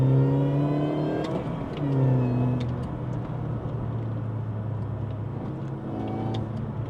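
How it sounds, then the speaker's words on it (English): A supercharged Mini accelerates from inside the car, the engine droning up through the revs with a steady supercharger whine, a brief dip around a gear change, then a continuous pull with no talking. "We'll just go and hear that supercharger again"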